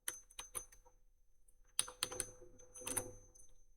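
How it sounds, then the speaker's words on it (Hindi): Quiet keystrokes on a computer keyboard as an ID, password and captcha are entered: a few taps, a short pause, then a denser burst of typing, faint and close. "आईडी पासवर्ड डाल के कैप्चा दर्ज करना है"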